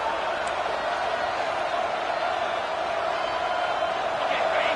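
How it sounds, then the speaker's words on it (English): A college football stadium crowd roars continuously in a dense, steady wall of noise, loud and sustained without letup. "This crowd, full throat, splitting the eardrums and letting them know it's going to be a long day"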